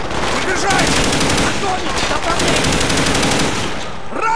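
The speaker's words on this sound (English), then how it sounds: "Oh, I'm getting shot up." Sustained automatic gunfire in the Call of Duty Black Ops video game, dense rapid bursts that fill the whole stretch with a loud, continuous battle din.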